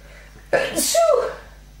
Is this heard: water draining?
no